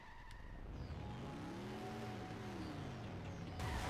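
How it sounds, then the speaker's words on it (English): Car engine in The Simpsons Hit & Run video game, a steady low bass drone with rising and falling harmonic sweeps as it revs, running continuously beneath game sounds with a brighter burst near the end. "Is that just the motor of the car?"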